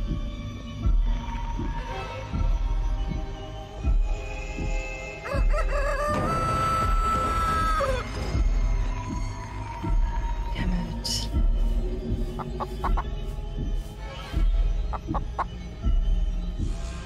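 A giant chicken in a horror stealth survival game clucks and crows over eerie music and low thumping heartbeat-like pulses, with a drawn-out crow in the middle.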